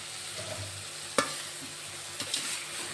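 Pasta tossed and stirred into sizzling masala in a pan, a steady frying hiss with a sharp scrape of the spoon midway and a couple of softer clinks near the end.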